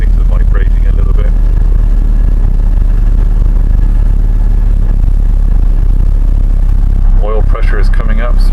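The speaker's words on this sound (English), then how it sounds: "Got quite a fast idle right now to push the choke in a little bit to slow it down." Land Rover Series 2a from 1963 running at a fast idle on choke, a loud steady rumbling engine with some clatter, and someone speaking over it.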